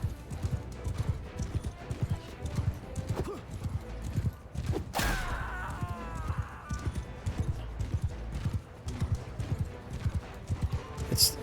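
In Mount & Blade II Bannerlord, horse hooves clip-clop in a rapid galloping rhythm throughout, a horse whinnies once midway, and battle sounds mix in around them.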